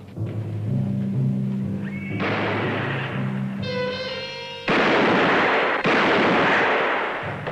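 Gunshots fired at a man's feet in a Western TV episode, loud booming reports with a ricochet whine amid rumbling, tense music.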